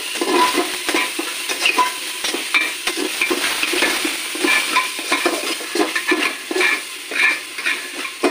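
Biryani masala with a spoonful of sugar is stir-fried in a pan for chicken tikka biryani, producing loud, rhythmic scraping strokes over a light sizzle, close up and without speech.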